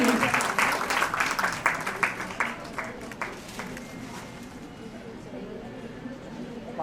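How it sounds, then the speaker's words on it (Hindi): An audience at a women's committee dance competition event claps in a burst of applause that fades to a quieter patter, heard at a moderate distance with a voice speaking over it. "तो जोरदार तालियां"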